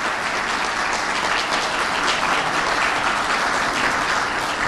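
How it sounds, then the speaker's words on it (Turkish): A large audience at a speech claps vigorously, a thick, even wash of applause that stays constant and loud throughout with no voices on top. "onlar için sizden kuvvetli bir alkış istiyorum"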